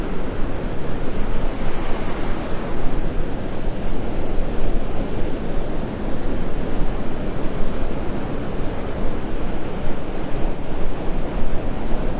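Constant roaring wind buffets the microphone at Delnor-Wiggins beach in North Naples, mixed with a steady rush of surf, loud and unbroken throughout.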